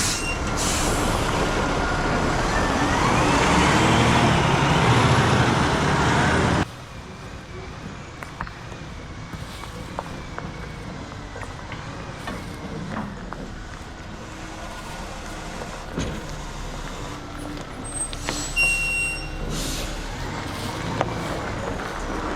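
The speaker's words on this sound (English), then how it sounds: "I hear the truck now." A concrete truck arriving at a house construction site for a slab pour, a loud engine drone with a rising whine that cuts off abruptly, then a lower rumble of idling and distant site noise.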